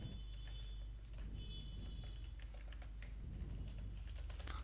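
Keys clatter steadily on a computer keyboard for several seconds in a quiet room, with brief sharper clicks near the end and no talking.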